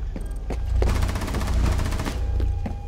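Sustained automatic gunfire from a Rainbow Six Siege team deathmatch round on the Hereford Base map, loud rapid bursts with brief pauses over steady game ambience, no talk.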